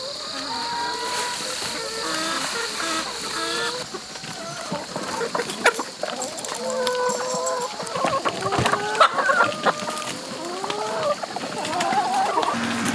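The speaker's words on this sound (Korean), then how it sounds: "이곳에서 기르는 닭의 수만 해도 300마리에 이릅니다." A flock of about three hundred chickens clucks in a backyard coop, with busy overlapping clucks and squawks close by and a steady farmyard hum behind them. There is no talking.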